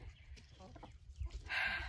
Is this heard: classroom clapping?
no